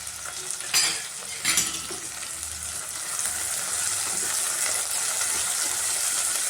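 Field beans frying in a pan with pounded pepper, a couple of sharp spoon scrapes early on, then a steady hissing sizzle that swells and holds, close and with no talk.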